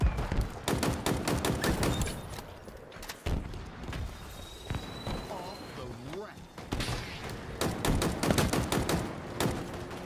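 Sniper fire and bursts of gunshots ring out in a Halo Forge-map match, with rapid cracks and thuds in clusters while players talk over the game audio.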